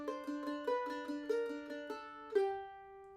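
A quick mandolin lick in G: a rapid run of bright plucked pickup notes in a shuffle rhythm, ending on a ringing sustained note that fades out.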